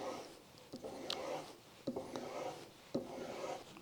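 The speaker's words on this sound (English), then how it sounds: "I'm going over to the strop, starting with the back of the blade" A steel chisel blade is drawn back and forth over a strop in soft, quiet rubbing strokes, with small taps where each stroke begins.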